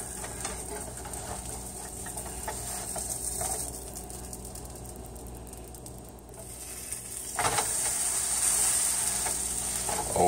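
A Reuben sandwich grilling on a hot surface gives off a steady, fairly quiet sizzling hiss that swells near the end, with a few light scraping and clicking touches.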